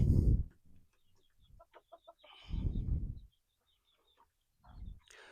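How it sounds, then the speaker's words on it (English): Short bursts of backyard chicken clucking with a few sharp calls, close by, separated by quieter gaps and low rumbling noises. "But hey, check out the chickens."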